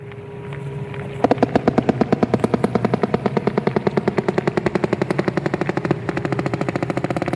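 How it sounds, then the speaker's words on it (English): A sperm whale gives a long series of rapid, evenly spaced clicks that start abruptly and keep a steady rhythm, loud and dense over a low background hum with no voices. "The answer is a sperm whale clicking."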